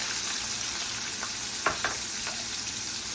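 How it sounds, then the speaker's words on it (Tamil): Bitter gourd pieces fry in a little oil in a pan on a slow flame, giving a steady soft sizzle with a couple of brief louder crackles as pieces are added or stirred. "கொஞ்சமாக எண்ணெய் விட்டு அதில் வந்து நம்ம இந்த பாவக்காய் போட்டு நல்லா பொரிச்செடுக்க போகிறோம்"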